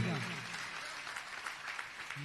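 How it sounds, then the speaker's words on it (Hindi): An audience at a Jain religious gathering applauds, a fairly faint, even spread of clapping with a voice briefly heard at the start and end. "जोरदार तालियां बजाइएगा"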